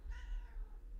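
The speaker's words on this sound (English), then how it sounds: "That's a new meow." A cat gives one short, faint meow that quickly rises and fades, heard alone and close against a low background rumble.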